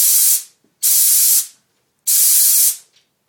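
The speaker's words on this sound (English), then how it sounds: "I'm going to spray that side." A spray tan gun in a tanning booth hisses out three separate bursts of about half a second each, loud and close, with short silent gaps between them.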